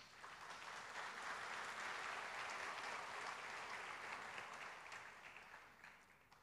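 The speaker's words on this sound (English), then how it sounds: "Let's give the Holy Spirit a round of applause." A church congregation applauds during an archbishop's address, a broad steady wash of many hands clapping that holds for several seconds and then tapers off toward the end.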